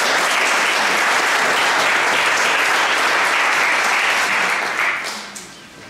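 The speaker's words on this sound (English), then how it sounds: "Give them a round of applause." A crowd at a mayor's State of the City address bursts into sustained, loud applause, steady and dense throughout, tapering off in the final second.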